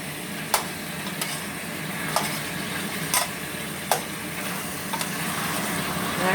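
Brown sugar chicken wings sizzling in a pan, a steady bright hiss broken by sharp scrapes and taps each time they are stirred, with no voices.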